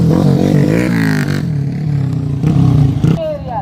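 Enduro trail motorcycle engines run close by at a rough, loud idle with a brief rev and clattering, and a voice is heard over them.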